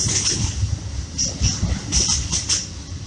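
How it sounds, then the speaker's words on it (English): A passing train rumbles loudly and steadily throughout, with low-frequency roar and intermittent higher metallic squeals and hiss, continuous with no breaks. "I hope this train noise can let you guys hear what I'm saying."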